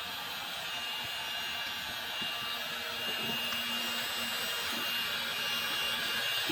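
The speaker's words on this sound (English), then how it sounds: "we've successfully shrunk down our heat shrink tubing" A Milwaukee M18 heat gun blows a steady, even airy roar while shrinking heat shrink tubing over a damaged wire jacket, held close and continuous throughout with faint clicks and handling noise.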